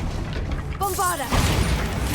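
A Bombarda blasting spell goes off in Hogwarts Legacy, a booming burst that swells over a dense game soundscape, with a short tonal whine and speech in the mix.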